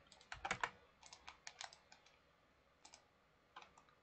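Computer keyboard keys are pressed while a PC game is played, with quick bursts of close, crisp clicks and then scattered single taps amid quiet.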